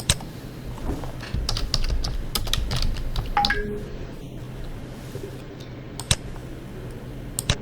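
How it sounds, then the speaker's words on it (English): Typing on a computer keyboard, a run of quick, close key clicks at an irregular rhythm with a short pause in the middle and a few isolated taps afterward. "Type the text into the video."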